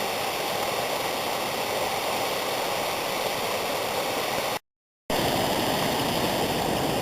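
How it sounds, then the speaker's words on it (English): A waterfall pours out of the side of a rock, giving a steady, broad rushing hiss of falling water close by, uninterrupted apart from a brief dropout, with no voices. "pretty cool waterfall just coming out of the rock"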